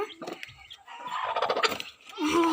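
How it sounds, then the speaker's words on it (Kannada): A pure black Kadaknath chicken clucks in short, soft bursts close by, with a brief louder call near the end and a quiet background. "ಇದು ಕಡಕ್ನಾಥ್ ಅಂತ ಫ್ರೆಂಡ್ಸ್, ಪ್ಯೂರ್ ಬ್ಲಾಕು"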